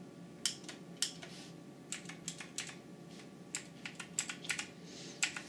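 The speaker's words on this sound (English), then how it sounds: "we got this keyboard which clicks" Clicky Ajazz First Blood gaming keyboard typed on at close range, with sharp, irregular key clicks in quick bursts over a quiet background and no talking.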